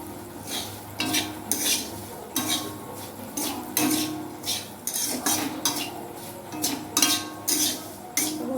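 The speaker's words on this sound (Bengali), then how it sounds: "অল্প অল্প করে সুজি দিয়ে একটু নাড়িয়ে নেব" Semolina being stirred in a pan for suji pulao, the spoon scraping and clinking against the metal in repeated uneven strokes, close and fairly loud over a faint sizzle, with no talking.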